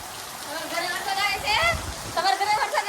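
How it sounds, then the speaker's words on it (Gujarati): Heavy morning rain hisses steadily outside a home, a dense wash of noise running beneath a person talking throughout. "સવારમાં અમારે ઘરે આવી ગયો છે વરસાદ જોઈ રહ્યા છો એટલો બધો વરસાદ આવી રહ્યો છે"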